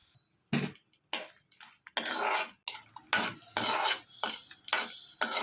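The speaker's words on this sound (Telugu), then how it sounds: "ముందుగా ప్యాన్ పెట్టుకుని ప్యాన్లో ఆయిల్ వేసుకుని ఆయిల్ బాగా వేడెక్కిన తర్వాత 5 ఎండుమిర్చి వేసుకుని ఈ ఎండుమిర్చి బాగా వేయించుకోవాలి" Five dried red chillies fry in hot oil in a pan, stirred in a series of separate scraping, clattering bursts of metal against pan with short quiet gaps between them, close and fairly soft.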